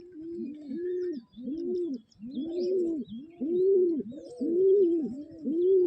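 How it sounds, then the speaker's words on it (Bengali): A black-green pigeon coos in a steady run of repeated low, rounded calls, close and clear, with faint chirps from other birds high in the background. "তো তোমাদের একটা কালো সবুজ পায়রা দেখাচ্ছি"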